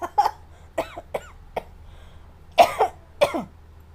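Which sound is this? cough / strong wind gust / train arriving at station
cough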